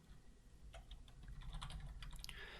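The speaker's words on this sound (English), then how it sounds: "So let's just go ahead and type something in." Faint, rapid keystrokes on a computer keyboard, a quick run of soft clicks over low room hum, with no one speaking.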